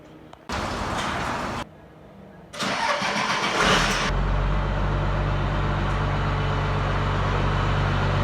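A truck engine cranks in two bursts, then catches and settles into a loud, steady idle with a deep, constant rumble.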